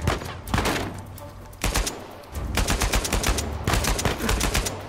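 Gunfire in Uncharted 4 during a crypt shootout: rapid bursts of shots and fusillades come in clusters with short gaps, loud and close, with no talk over them.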